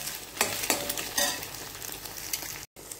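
Egg seasoned with salt and pepper frying and being stirred in a kadai for idiyappam kothu: a steady sizzle with a few sharp scraping strokes, close and fairly loud, briefly cutting out near the end.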